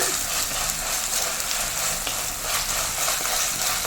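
Green chillies frying in hot oil for a Kerala-style curry with sardines and taro, giving a steady, loud, close sizzle that runs without a break and has no talk over it.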